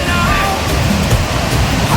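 A river rushing at Hermosa Falls on the west coast of Zamboanga City: a loud, continuous broadband roar of flowing water filling the space evenly, with no breaks.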